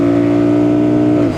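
A 2008 Kawasaki Vulcan 900C motorcycle engine is held near top RPM, giving a loud, steady high-pitched whine that stays constant before briefly dropping off at the end.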